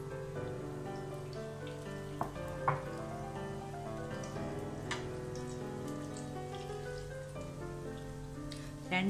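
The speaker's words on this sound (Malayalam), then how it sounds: "നമുക്ക് ഓരോ പീസ് ഓരോന്നായിട്ട് ഇതിൽ മുക്കി എണ്ണയിലിട്ട് കൊടുക്കാം." Banana fritter pieces in batter frying in hot oil, a continuous crackling sizzle with occasional sharper pops, close and fairly quiet, with no voices.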